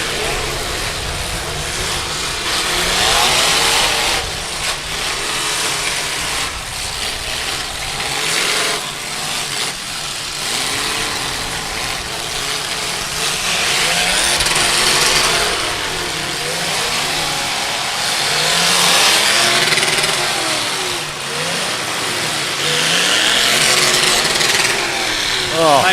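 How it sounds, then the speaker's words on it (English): Demolition derby car engine at a 2023 event, revving hard and repeatedly bouncing off its rev limiter in loud, wavering surges, under a commentator's voice and crowd noise throughout. "Mike Smith bouncing that rev limiter"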